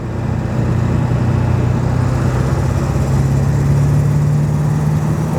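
A Ford F-350 pickup with a 7.3L diesel engine and about 320,000 miles accelerates, its loud, steady low drone climbing gently in pitch throughout, with no voices.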